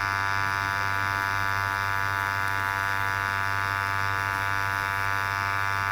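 A tattoo machine fitted with a Magnum needle buzzes steadily while packing solid black ink, a continuous close electric drone with a fixed pitch and no pauses.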